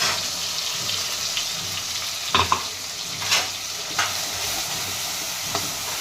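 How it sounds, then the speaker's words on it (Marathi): Masala spices sautéing on a full gas flame for a village-style country chicken curry, an even bright sizzle with intermittent scrapes and knocks of a spatula stirring the pan, close and fairly loud, no voices. "मसाला असा सारखा असा परतवत राहायचा आहे आपल्याला फुल गॅसवर."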